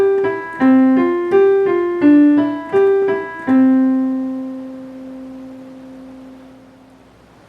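Piano right-hand sight-reading exercise played at a quicker pace: a short run of bright single notes in an even rhythm, ending on a held final note that rings and slowly decays.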